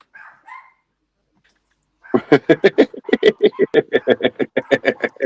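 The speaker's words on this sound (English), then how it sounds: "The dog." A dog barks in a rapid, loud run of about twenty sharp barks close by, preceded by a brief faint whimper-like sound and a pause of silence.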